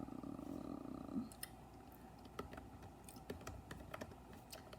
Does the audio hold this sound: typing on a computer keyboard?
yes